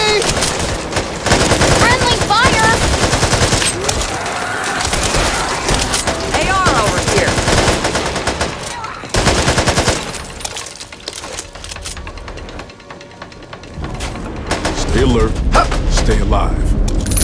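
Continuous loud gunfire from the Back 4 Blood open beta on Xbox Series X, dense automatic bursts and fusillades with mechanical clatter, briefly easing midway before surging again, with game voices talking over it.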